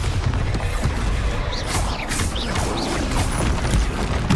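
Bombarda explosion spell cast during combat in Hogwarts Legacy, a dense, loud blast of booming impacts and crashing debris that sustains through the whole stretch, with brief whooshing spell tones layered on top.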